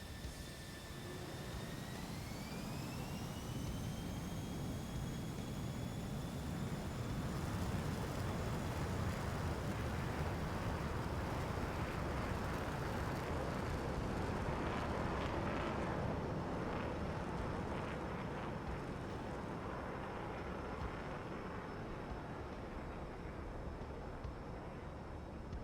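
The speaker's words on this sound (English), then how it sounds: "Second formation takeoff, F-16, F-18 from the blue side." F-16 and F-18 military jets taking off in formation from the blue side, a steady, distant jet-engine roar that builds gradually and holds, with a rising whine early on.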